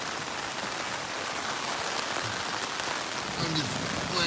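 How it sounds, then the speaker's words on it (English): Steady rain falling at night on the Appalachian Trail, a continuous dense hiss of drops on a surface, close and even throughout with no talking. "listening to the rain"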